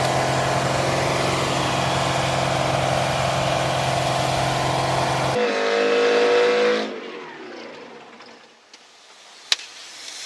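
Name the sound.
Detroit diesel engine running away at full RPM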